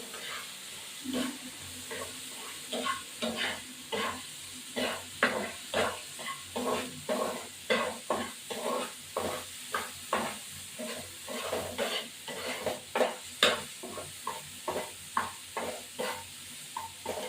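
Spices sizzle and hiss in a hot pan while a spoon stirs them in a steady rhythm of scraping strokes, frying before coconut milk is added for prawn malai curry.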